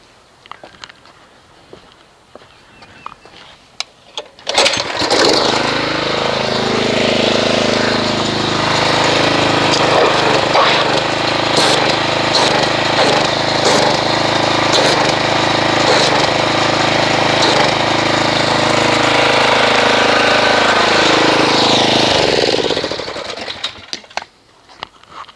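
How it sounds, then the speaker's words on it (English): A pressure washer roars on after a few quiet seconds, spraying into a soap mixture of Gyeon Bath shampoo and Mastersons Mystic Sno with a loud, steady pulsing motor drone and hiss for about eighteen seconds, then stops. "it will sit on the bottom until we actually agitate it with a pressure washer"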